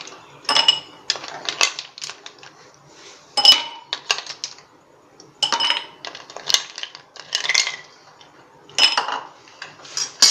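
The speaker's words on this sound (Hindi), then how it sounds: "सबसे पहले हम आइस क्यूब डालेंगे, जितनी आपको ज़रूरत हो," Ice cubes clink and rattle into a glass for tamarind sharbat, producing repeated bright close-up knocks in uneven bursts.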